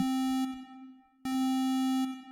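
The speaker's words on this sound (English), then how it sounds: "It's like not a full echo. So it's what it sounds like when you're just in like a big room, a big empty room." Synthesized tones from the BeepBox web music tool sound with a light reverb, like a big empty room: a sustained buzzy note cuts off, a faint tail lingers, then a second note starts sharply.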